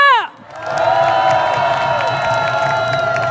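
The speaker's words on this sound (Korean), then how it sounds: "멋진 공연을 준비해주신 바리톤 윤선희님과 테너 박준성님께 다시 한번 뜨거운 박수 부탁드립니다" Concert audience bursts into applause and cheering after a performance by a baritone and a tenor, following a brief sung or sustained tonal phrase at the start; steady, loud crowd clapping and whoops continue throughout.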